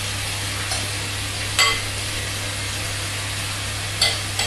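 Food sizzling and frying in a pan, a steady crackling hiss with a few sharp clinks of utensils against the pan.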